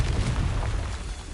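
Confringo spell explosion in Hogwarts Legacy, a dense rumbling blast with a loud boom that stays sustained and fairly even over the short stretch, without talk.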